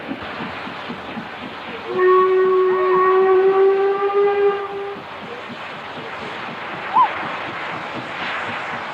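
The steam locomotive George Stephenson leaves Tain in the Scottish far north, heading toward the Dornoch Firth. Its whistle sounds one long, clear, loud blast over a low running rumble, followed by a brief short toot.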